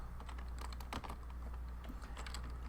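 Quick, steady run of light taps from a word typed on an iPad touchscreen keyboard, close and continuous for a few seconds with no talking.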